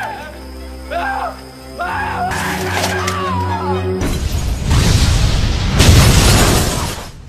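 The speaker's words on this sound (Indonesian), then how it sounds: "dia meledakkan pabrik itu bersama Jong Sok" A factory blows up in a film scene, a loud, rumbling blast that swells and roars for several seconds after earlier groaning and musical tones.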